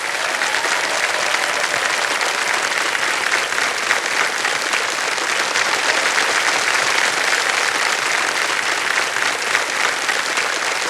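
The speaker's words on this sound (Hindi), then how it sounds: "ताली बजती रहे" Studio audience on a televised quiz show claps loudly and steadily for about ten seconds, a dense, even wash of applause with no talking over it.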